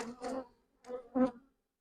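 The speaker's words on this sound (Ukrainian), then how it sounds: "Тут багато молодої бджоли, яка буде виходити." Honey bees buzz inside a hive full of young bees about to emerge, the hum swelling in three close bursts, the last the strongest, then fading to quiet.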